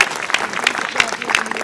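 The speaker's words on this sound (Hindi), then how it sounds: "एक बार जोरदार तालियों से आमंत्रित करिए।" Brief burst of audience clapping welcoming a poet onto the stage at a Hindi poetry gathering, dense and fairly loud with a few sharper claps standing out.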